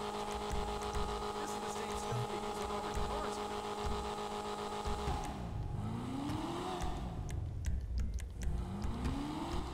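A car engine in Grand Theft Auto revs and accelerates steadily under game music, rising in pitch in a couple of sweeps toward the end.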